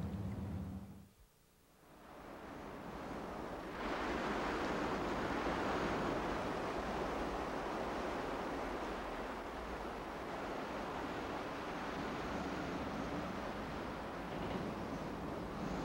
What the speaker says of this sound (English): A wilderness of wind and waves, the most remote of the British Isles.